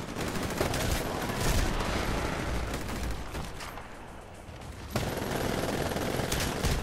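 Sustained gunfire in the first-person shooter game Titanfall rattles in dense bursts, briefly easing off before picking up sharply again, loud and with no talking.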